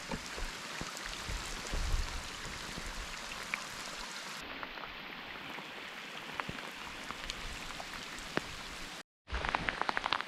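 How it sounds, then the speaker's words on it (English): Heavy rain pours steadily at a wilderness canoe campsite in the Boundary Waters, a dense constant patter on surfaces with scattered close drops, briefly cut off near the end before resuming. "now it starts to really rain. Coming down now."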